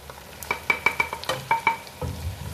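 Spices fry in oil with lamb neck in a pan and are stirred with a utensil, leaving sharp metallic scrapes and clinks in an uneven rhythm over a low, steady sizzle nearby.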